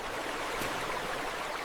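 A river stream flowing with clear, cold water gives a steady, even wash of rushing noise for under two seconds, with no voices.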